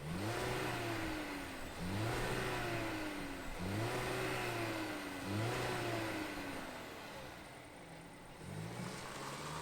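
The 1.5-liter turbocharged four-cylinder engine of a 2022 VW Jetta revs in a string of about five rising-and-falling throttle sweeps with a brief pause, heard faintly at a distance.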